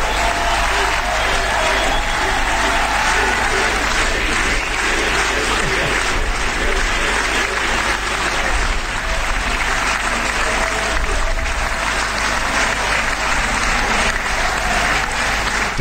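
Sustained, dense applause from a large crowd greets a president in a broadcast excerpt, steady and loud for about sixteen seconds with no voices breaking through.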